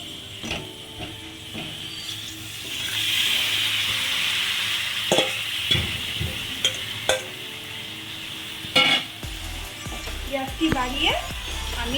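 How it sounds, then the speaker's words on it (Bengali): Chicken pieces fry in a pan with a steady hiss, broken by repeated scraping and knocking as a utensil stirs them; a voice speaks near the end. "এবার আমি চিকেনগুলো এর মধ্যে দিয়ে দেবো"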